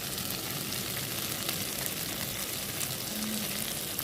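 Food sautéed in a pan before chilli powder goes in, a dense, even, close sizzle that holds steady throughout with no talking.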